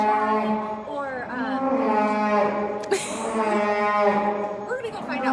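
Dairy cows on a farm, animals about to stop giving milk, low drawn-out moos in several long calls, fairly close and loud with no talk over them.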